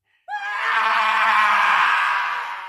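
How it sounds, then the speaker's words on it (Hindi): A woman's scream in a horror story set in a haunted mansion breaks out of silence and holds as one long, loud, piercing cry that fades slightly at the end. "रिया चीखी।"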